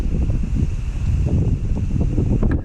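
Strong wind at a campsite beside a fire, a steady loud rumble buffeting the microphone with low gusty roaring throughout and no talk.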